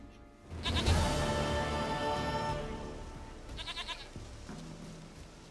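Goat bleating in The Witcher 3, a loud, wavering cry that rises quickly and trails off over about two seconds, followed by a couple of shorter, quieter bleats, with no talk.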